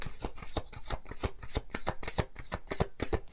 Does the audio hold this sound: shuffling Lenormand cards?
yes